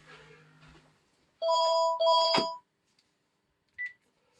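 A telephone rings with two short, loud electronic trilling bursts close by, followed by a brief faint chirp, after a moment of soft background sound and with no talking.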